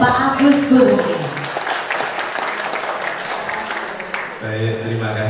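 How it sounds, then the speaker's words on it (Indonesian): Audience applause at a book launch in Yogyakarta, a few seconds of lively clapping from a seated crowd, with a voice talking over it at the start and again as the clapping fades. "Langsung saja berarti kita berikan tepuk tangannya untuk Pak Agus Bro."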